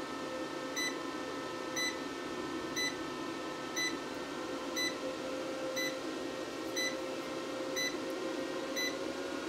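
A solar inverter's error 04 alarm: short electronic beeps repeat about once per second in a steady pattern over a constant electrical hum and background noise.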